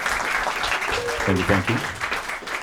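Applause from a live concert audience after an opening set at the Cherry Center, a steady wash of clapping under which someone briefly speaks.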